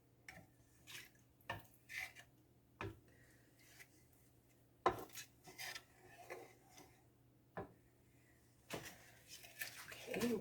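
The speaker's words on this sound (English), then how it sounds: "mix this around and simmer it" A spoon stirs a simmering pot of sauce, giving intermittent scraping, rasping strokes with short knocks against the pot, fairly close and fairly quiet over a low steady hum.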